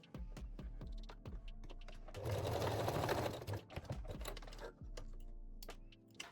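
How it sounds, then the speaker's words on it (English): A sewing machine runs in short bursts and one longer steady whir while stitching the strap ends of a lace bralette with straight or zigzag stitch, the motor close and fairly quiet with clicks between runs. "sew the strap ends with straight or zigzag stitch"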